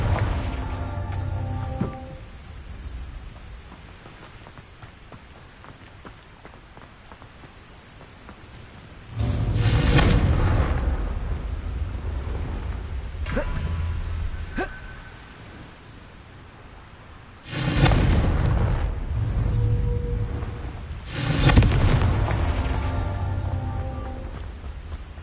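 Repeated fiery blasting-spell explosions in Hogwarts Legacy, three loud booming bursts with rumbling decay spaced several seconds apart over a low ambient bed.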